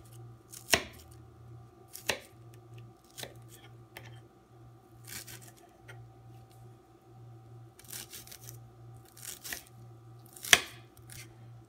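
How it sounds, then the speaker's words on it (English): Knife finely dicing shallot on a cutting board for shrimp and smoked salmon tartare, with sharp irregular chops spaced a second or so apart over a steady low hum in a quiet kitchen. "And you want to dice this also very fine."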